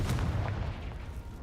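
A Confringo spell blast in a wizarding video game, a quick low booming burst with a short rumbling tail, fairly quiet and heard alone.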